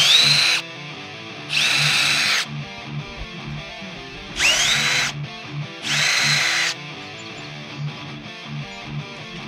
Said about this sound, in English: when I'm running my tap through, I like to use a little bit of lubricating wax and go full speed ahead